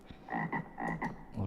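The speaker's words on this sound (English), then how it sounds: "Let's make it a sound that we're not going to jump from. Let's get the frog." Several deep, rasping frog croaks played as a sound effect during a livestream, coming in short bursts with brief gaps, fairly loud and alone with no talking.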